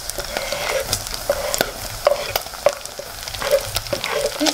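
Beef and onions fry in a pan for samosas, a steady close sizzle broken by the repeated scrape and clatter of stirring, with no one talking.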